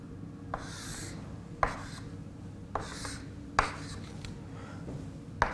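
Chalk or marker strokes on a board during a physics lecture, short scratchy swipes repeating every second or so with small taps at each stroke start, faint over a steady room hum and without talk.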